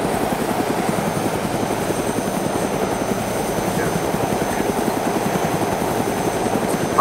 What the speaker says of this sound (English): Neo, we have a helicopter, and it's working